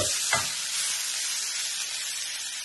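Snack pieces deep frying in oil at home, a dense steady sizzling hiss throughout with a brief bump near the start, close and unbroken, no talking.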